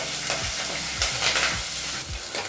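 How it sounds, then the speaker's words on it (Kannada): Slit green chillies and dry chillies fry in a hot pan with a steady close sizzle, broken by about four scraping stirs at a regular pace. "ಈಗ ಈ ಪದಾರ್ಥನೆಲ್ಲ ಒಂದು ಮೂವತ್ತು ಸೆಕೆಂಡ್ಗಳ ಕಾಲ ಫ್ರೈ ಮಾಡ್ಕೋಬೇಕಾಗುತ್ತೆ"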